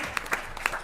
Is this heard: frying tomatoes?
no